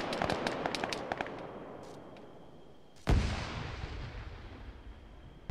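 Enemy gunfire in the military shooter Squad: a rapid burst of distant sharp cracks, then a loud close heavy report that booms and rolls off into a long reverberant tail, with no voices.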